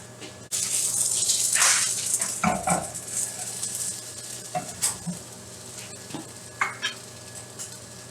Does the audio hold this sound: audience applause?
no